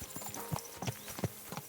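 Horse hooves clip-clop at an easy walking pace in medieval Kingdom Come: Deliverance II, a quiet, steady rhythm of soft thuds, a few footfalls over under two seconds, with faint ambience behind.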